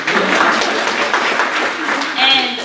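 An audience claps during an educator's talk, giving a short, loud burst of applause that runs throughout, with a voice speaking over part of it.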